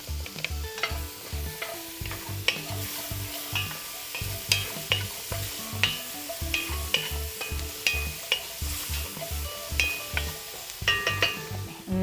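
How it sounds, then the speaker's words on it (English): Garlic sizzles in a pan for short ribs braised in beer and beef stock, with steady frying hiss broken by repeated clinks and scrapes of a utensil stirring against the pan. "let's add in our garlic"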